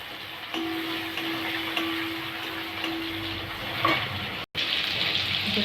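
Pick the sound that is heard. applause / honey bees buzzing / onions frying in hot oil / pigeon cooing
onions frying in hot oil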